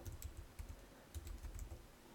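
Rapid, soft keystrokes on a computer keyboard while entering a mean function in GeoGebra for a statistics lesson, an irregular run of light clicks over steady low room noise.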